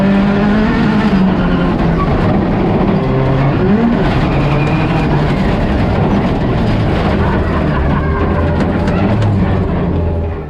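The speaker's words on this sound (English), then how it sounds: "So that was in the rally car" Rally car driven flat out on a rally school course, engine note rising and falling through gear changes over a steady roar and road noise, loud and close throughout without a break.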